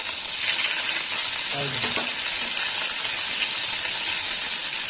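Ginger paste sizzling in hot tempering oil (phoron) in a pan for a vegetarian Bengali curry with bori, potato, pumpkin and pointed gourd; a steady, loud, dense frying hiss throughout with a few faint clinks, no talking.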